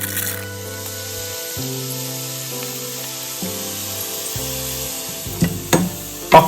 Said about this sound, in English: Place a pot like this with oil to fry the rice.